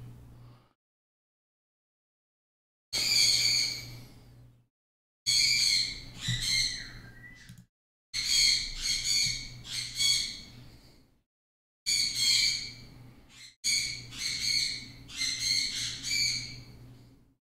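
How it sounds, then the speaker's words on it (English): Birds squawk outdoors in a series of loud, harsh bursts, some single and some in quick clusters of three or four calls, separated by brief silences, with no talking. "Those birds."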